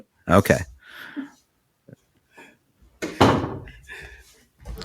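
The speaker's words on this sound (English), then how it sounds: "I need to close this door first" An indoor door is closed with a couple of sharp knocks and thuds, heard close and loud, with people talking in between.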